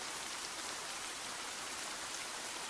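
Heavy rain falls steadily in the horror game The Bathhouse, a dense, even hiss of drops that holds at a constant level throughout with no voices.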